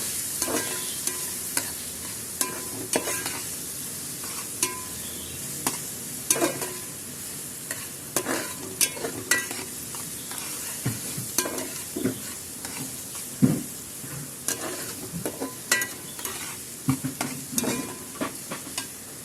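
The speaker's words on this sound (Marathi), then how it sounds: "उरलेला कांदा नंतर टाकला. कांदा चांगला नरम होऊन द्यायचा." Onions frying in a pan for Konkani phodnicha bhaat, stirred often until soft: a steady close sizzle with a spoon scraping and clinking against the pan at irregular intervals, and no voices.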